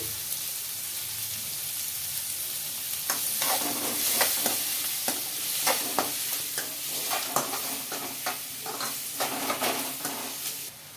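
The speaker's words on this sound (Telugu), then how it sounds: "ఇందులోకి కరివేపాకు అయితే వేస్తున్నానండి" Curry leaves spatter and sizzle in hot oil for a dry fish curry, a steady crackling hiss broken by repeated scraping strokes of a stirring spoon, close and fairly loud.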